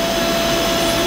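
A Doosan Puma MX2100ST CNC lathe running, a loud steady whirring hum with a constant tonal whine, heard close and alone without speech for about a second.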